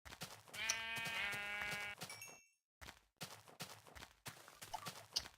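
Sheep bleating in a video game, a near, drawn-out bleat followed by short choppy game sounds and clip-clop-like footsteps after a brief silence.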